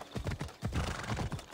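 Rapid clip-clop of hooves at a steady canter with a horse's whinny breaking through, close and fairly loud, in the video game Assassin's Creed Odyssey.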